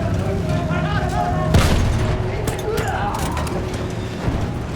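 A field gun fires in a Battlefield campaign battle, one heavy booming blast about midway through a dense wash of combat noise, with voices shouting underneath.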